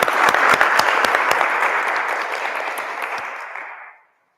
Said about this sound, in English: Let's give each other a hand of applause.